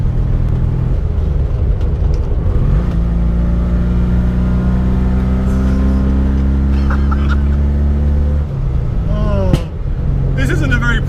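A 1972 Abarth 695 engine drones loud and near from inside the car, holding a steady rumbling note before it drops off and blips again near the end.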